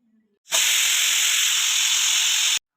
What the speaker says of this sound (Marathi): कुकरच्या तीन शिट्ट्या झाल्यावर कुकर थंड होण्यासाठी ठेवला